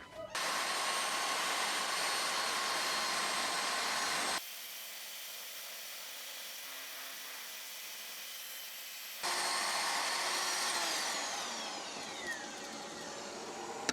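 An Evolution R255TBL+ table saw rips through a thick piece of wood, its loud steady whine running throughout with a quieter stretch in the middle before the full cutting roar returns and slowly winds down.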